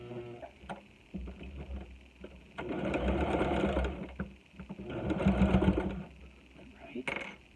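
A sewing machine stitches a fabric face mask with elastic in short bursts, whirring runs starting and stopping several times, with a person talking between them.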